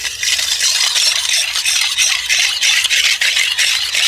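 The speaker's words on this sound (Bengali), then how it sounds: "এবার আমি খুব সুন্দর করে দুধের সাথে চিনি আর এই আগার আগার পাউডারটাকে মিশিয়ে নেব।" Milk being stirred with sugar and agar agar powder for a green coconut pudding: a steady, close swishing and scraping that runs without a break, with no voices.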